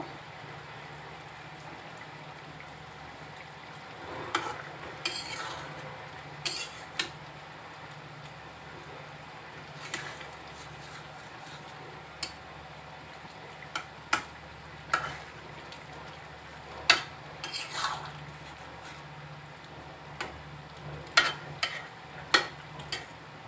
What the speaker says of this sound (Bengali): কিছুক্ষণ পর ঢাকনা উঁচু করে আবার একটু নেড়ে চেড়ে দিব